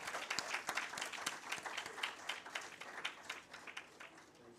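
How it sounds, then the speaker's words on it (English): Audience applause at an interior design institute's Women's Day event in Hyderabad, a moderate burst of individual claps from a modest crowd, steady then gradually thinning toward the end. "Ladies and gentlemen, a big round of applause."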